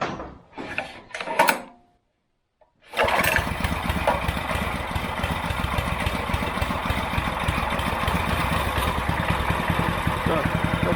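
A homemade generator built from a walk-behind tractor engine is pull-started by its manual recoil starter: a few rattling pulls, a brief silence, then the engine catches and runs with a loud, close, steady chugging.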